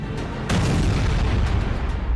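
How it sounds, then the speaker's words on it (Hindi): Bombs exploding over Tehran, a deep rumbling boom that swells and rolls on through the clip, heavy and dense, with a few sharper cracks on top and no voices. "तेहरान पर बम बरस रहे हैं"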